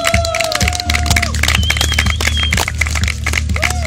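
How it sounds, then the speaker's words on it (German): A lively crowd at an anti-PRISM demonstration claps and cheers loudly, with whoops and shouts rising over the steady applause. "herzlichen Applaus"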